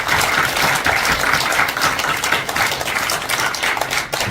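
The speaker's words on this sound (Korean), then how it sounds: "박수 한번 부탁합니다." An audience at a foundation launch ceremony claps in loud, sustained, dense applause throughout.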